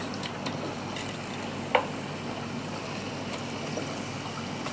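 Skin-on country chicken, two kilos cut into large pieces, hits hot masala gravy in a Kuwait kitchen, giving a steady, low hissing sizzle with one brief clink partway through, no voices.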